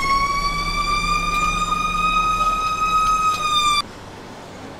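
A fire engine siren in the Emergency 4 video game, a loud sustained electronic wail holding a steady pitch for several seconds before cutting off abruptly.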